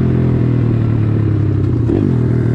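A homemade-tuned 140cc YX pit bike engine idles loud and close, a steady throbbing rumble with a slight rise in revs near the end, with no talk over it.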